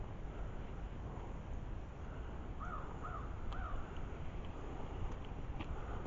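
Crows caw in the wild outdoors, three quick hoarse calls in a row, fairly faint and distant over a steady wind-like hiss, with no talk.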